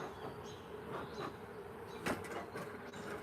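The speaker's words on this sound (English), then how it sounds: "Like, they're buzzing a little bit, like, interesting, but I think they're just agitated on here." Agitated queenless honeybees buzz inside an open hive during a beeyard inspection, a soft steady drone with faint rises and a brief click partway through, no talk.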